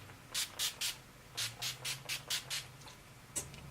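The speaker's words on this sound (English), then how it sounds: "I'm just going to go ahead and spray it down with my NYX setting spray." NYX makeup setting spray mists onto a face in about ten short, close hissing bursts, several in quick groups of two or three, with brief quiet gaps between.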